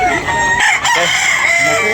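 An 18-month-old rooster at a rainy chicken market crows loudly and close, one long strained call filling the moment with a brief break partway through.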